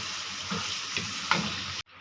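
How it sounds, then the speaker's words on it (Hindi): A cup of water goes into a pot of chicken sizzling in ghee for daal murgh karahi. Loud frying hiss carries a few splashy bursts, then cuts off abruptly. "अब साथ ही हम 1 कप पानी डाल देते हैं ताकि चिकन अच्छी तरह गल जाए"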